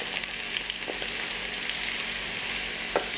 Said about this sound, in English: I'll put about 2 tablespoons of that lamb fat in. And begin browning off the pieces,